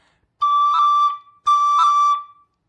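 Two sustained tin whistle notes, each a bright steady tone about a second long with a brief flutter from a finger cut in the middle, separated by a short pause.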